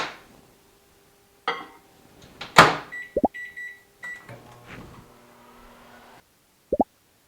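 A microwave oven heating a potato: a door clunks and a latch clicks, then a steady hum runs for a few seconds. Sharp beeps follow near the end, close and clear, with no talking.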